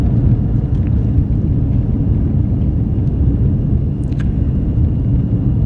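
A British Airways 787-9 on its takeoff roll from Heathrow's north runway, heard from inside the cabin as a loud, steady low engine roar that holds throughout.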